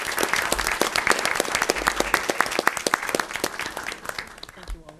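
A room full of people at a school board meeting applauds warmly, a dense patter of clapping that gradually thins out and fades toward the end.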